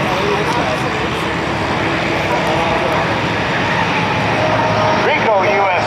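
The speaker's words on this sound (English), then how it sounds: "Nice plane." A fixed-wing airplane flies overhead at a Cleveland air show on Labor Day, its engine drone loud and steady throughout, with crowd noise and an announcer's voice underneath.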